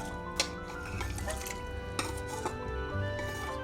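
Soaked rice, softened by hand, is added to a pot of hot milk for gajrela, with a few clinks of utensils against the pot and soft stirring and pouring sounds at close range.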